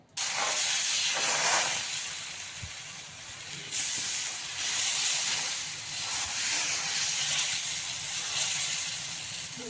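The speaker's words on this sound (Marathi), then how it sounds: "असा छान एकसारखं पीठ करून आपल्याला असं टाकून घ्यायचं आहे" Uttapam batter spread over a hot oiled pan gives a steady, close hiss and sizzle that swells again partway through as more batter meets the metal, with no talking.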